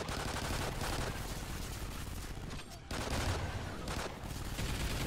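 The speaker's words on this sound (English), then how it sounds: "Here the double sentry guns will help you out a lot." Rapid, continuous automatic gunfire from twin sentry guns in the Call of Duty mode Extinction, a dense loud fusillade with a brief lull before resuming, set against scorpion-type alien enemies in a solo relic match.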